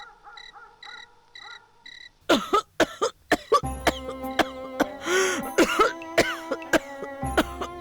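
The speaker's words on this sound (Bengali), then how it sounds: "এত কাশছো কেন?" A rapid string of harsh coughs from a mother in a Bengali cartoon, several in quick succession, up close and loud over a soft background of music and faint tones.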